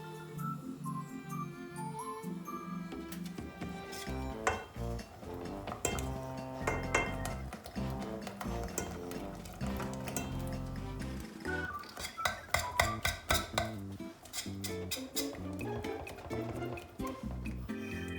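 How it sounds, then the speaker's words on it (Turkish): A spoon stirs thick milk pudding in a pot, giving repeated clinks and scrapes against the metal in uneven bursts over a steady tonal background. "Ardından muhallebimi karıştırıyorum"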